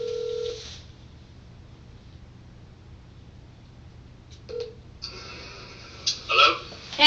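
A phone on speakerphone being dialed, with short electronic tones and faint button clicks over a low room hum. A brief ringback or beep sound comes near the end.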